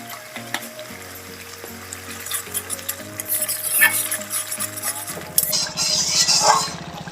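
Spice masala of turmeric and salt fries in a pan for a Bengali fish head and greens dish, a sizzle with spoon stirring and clinks over a steady tonal hum, intensifying toward the end.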